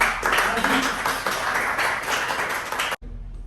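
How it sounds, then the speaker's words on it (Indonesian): A group of children claps during a Quran recitation lesson, a dense burst of hand claps at fairly close range that runs steadily for about three seconds and then cuts off abruptly. "Tepuk tangan tuh"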